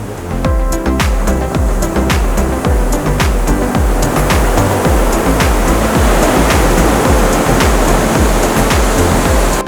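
Loud, continuous roar of big ocean surf crashing at Nazaré, Portugal, dense and unbroken, with no voices.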